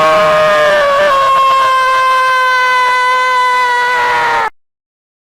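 A long, sustained high-pitched scream with a steady, tonal wail, loud and close, lasting about four and a half seconds before cutting off into silence.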